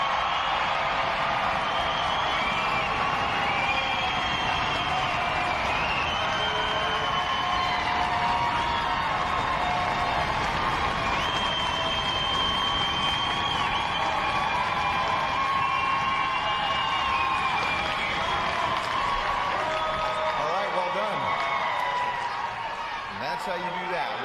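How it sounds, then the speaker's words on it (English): A large crowd at a Navy Recruit Training Command graduation yells, screams and cheers in a sustained, loud roar, with stomping and clapping blended in as the noise slowly fades at the end. "on the count of 3, I want you to yell, scream, stomp, clap"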